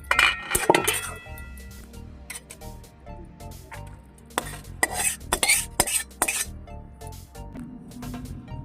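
Pots and dishes clink and clatter in a village kitchen as a finished pui metuli curry is taken off the stove, sharp metallic knocks coming in irregular bursts, close and fairly loud, with no talking.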